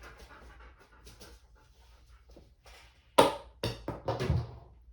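A dog panting during fetch training indoors, soft quick breaths under room noise, followed by a few louder close taps and scuffles as it moves about; no one speaks.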